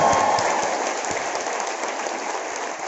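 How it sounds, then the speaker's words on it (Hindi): Audience applause honoring a poet at a kavi sammelan comedy event in Raipur, Chhattisgarh, a dense, hissing burst of clapping that is loudest at first and settles into a steady roar. "उनके सम्मान में जोरदार तालियां बजाएं"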